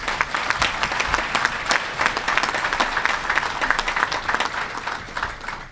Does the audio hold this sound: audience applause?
yes